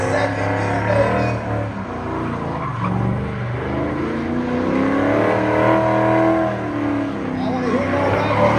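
A Dodge Dart autocross car revs hard and accelerates, engine note climbing and shifting into second gear, loud and continuous with tire noise, while a person talks over it.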